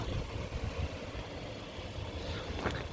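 The engine of a front-wheel-drive 2021 Honda Odyssey Touring idles with a smooth, even hum that holds steady throughout, with no talking.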